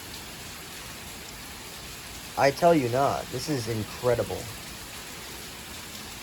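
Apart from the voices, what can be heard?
heavy rain and gusty wind storm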